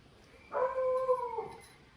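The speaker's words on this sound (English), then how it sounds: "There's the dog, barking at people outside." A dog gives one long, drawn-out howl lasting about a second, heard alone and at moderate distance indoors.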